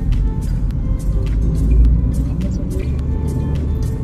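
Steady road traffic on the route into Titwala near Murbad junction, a continuous low rumble of cars with engine drone and passing vehicles, loud and close throughout.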